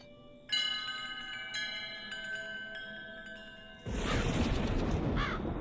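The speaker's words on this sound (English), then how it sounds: "that calls the bird in" A bird call sounds in the video game Creature Kitchen: a bright, ringing chime-like tone rises first, then a loud cawing call swells in and repeats over a noisy wash, with no talking.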